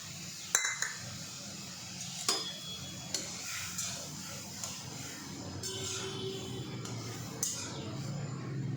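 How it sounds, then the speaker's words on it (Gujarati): Gentle stirring of jaggery in hot water in a pan for Gujarati kansar, with scattered spoon clinks against metal over a soft, steady background hiss. "એમાં આટલું ગોળ મિક્સ કરી દઈશું"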